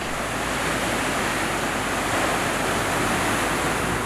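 Ocean waves breaking along the Baja, Mexico shore, a dense continuous roar of surf with some wind, loud and close, with no voices.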